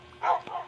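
Dogs barking in the Minecraft video game, two short synthetic barks in quick succession, close and fairly loud.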